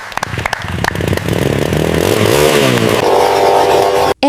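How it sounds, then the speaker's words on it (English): An old Yamaha motorcycle is revved hard close up, its engine climbing quickly to a loud, sustained roar with rising and falling pitch before cutting off abruptly at the end. "And finally, Sue revving bike hard"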